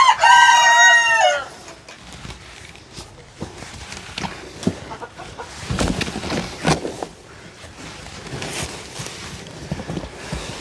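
Chickens in a flooded winter coop let out a loud rooster crow at the start, followed by scattered clucking and shuffling, with some faint talk in the background.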